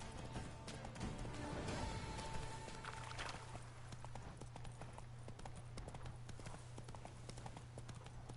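Roach the horse gallops in The Witcher 3, hooves clip-clopping in a steady fast rhythm over a constant low game rumble, with no voices.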